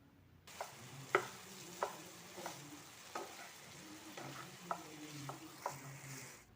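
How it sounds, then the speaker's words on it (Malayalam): Chicken 65 is stirred continuously in a hot pan, a soft sizzle running underneath while the spatula scrapes in regular strokes about every half second to second, fairly quiet and close. "ഇതൊന്ന് കണ്ടിന്യൂസ്ലി 2 മിനിറ്റ് ഇളക്കി കൊടുത്തതിന് ശേഷം ഇതിൻ്റെ ഫ്ലെയിം ഓഫ് ചെയ്യാം."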